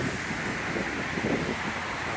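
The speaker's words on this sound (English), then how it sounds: "a little windy tonight." Wind rushes past a roadside roundabout at night, a steady, loud broadband roar buffeting the microphone with no voices.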